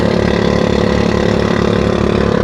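A new K-Tech engine runs steadily and loudly up close, its low, even rhythmic thrum continuous throughout with no voices over it.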